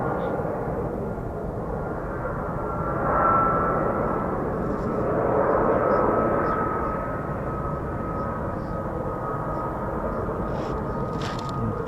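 An F-35B stealth fighter jet engine, operated by 809 Naval Air Squadron, roars as a steady, loud broadband rumble that swells twice before settling back, with faint voices underneath.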